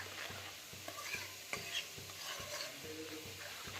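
A spoon stirs and scrapes in a pan as blanched spinach puree is mixed into sautéing potatoes, a soft sizzle with a steady rhythm of quiet clinks and scrapes, no talk.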